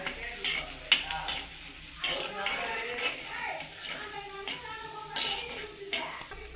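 Small onions sauté in sesame oil with garlic in a pan for an okra tamarind curry. They give a soft, steady sizzle with occasional stirring scrapes, heard close but fairly faint.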